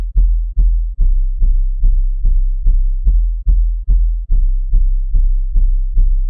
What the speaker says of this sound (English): Next, guys, we have the 808 pattern